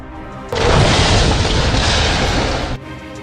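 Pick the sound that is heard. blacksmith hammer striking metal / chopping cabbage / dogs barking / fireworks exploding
fireworks exploding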